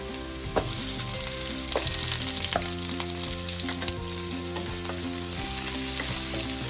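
Garlic and onion sizzle in hot oil for ginisang monggo, a loud crackling fry with repeated scraping strokes of a utensil stirring in the pan, close and without speech.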